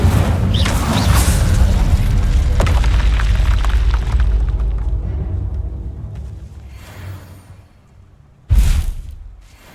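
An Incendio fire spell cast in the Hogwarts Legacy video game, a loud booming burst that rolls off into a fading rumble, followed by a second sharp impact near the end.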